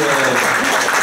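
Audience applause at a Debout la France regional election rally in Brécey breaks out loud and dense, a steady wash of clapping filling the short moment.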